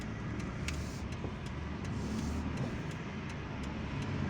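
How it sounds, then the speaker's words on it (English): A car drives through the streets of Algiers, heard from inside as a steady low engine and road rumble with faint clicks, continuous and muffled. "We are going to drive onto Bougara Street"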